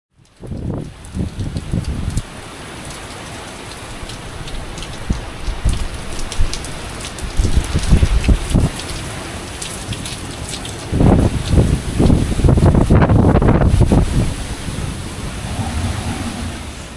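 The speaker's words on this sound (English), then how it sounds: "we got some really gusty wind this morning" Gusty wind during a storm, a steady rushing roar with strong buffeting surges and rain-like pattering on a surface, loud and close throughout with no talking.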